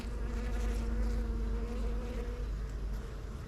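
A low, steady buzzing of many bees at a weak hive hums continuously, faint and close, with no voices.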